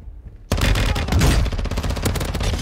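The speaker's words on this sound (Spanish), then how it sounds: "me está disparando" Rapid automatic gunfire erupts in Warzone 2 after a quiet moment, a loud, sustained burst of close shots rattling without pause for about two seconds.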